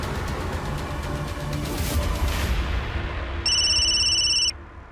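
A telephone ringtone in a Hindi crime drama, a steady electronic tone sounding for about a second, clear and fairly loud after a stretch of quiet background music.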